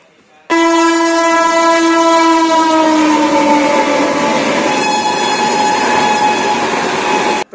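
Passenger train in India near a station at night, opening with a loud, sustained horn blast that fades into steady rumbling noise from the moving train, close and continuous until it cuts off.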